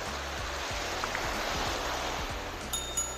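Sea waves wash onto a beach at night in a steady, full wash of surf noise, with low rumbling surges breaking every half second or so and a few faint high tones near the end.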